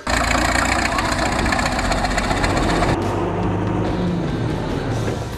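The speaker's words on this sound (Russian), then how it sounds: "Взревел мотор, и мы лихо понеслись по проселочным тропам." A BRDM armoured reconnaissance vehicle's engine runs loud and rough, a heavy steady knocking drone that shifts in tone as the vehicle sets off, with a faint voice underneath.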